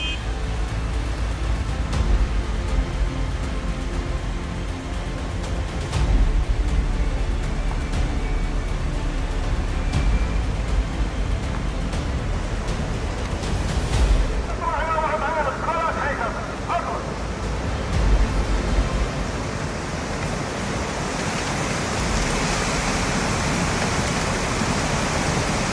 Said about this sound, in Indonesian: banjir bandang muncul dengan cukup besar nih gengs, dan menyapu aliran sungai tersebut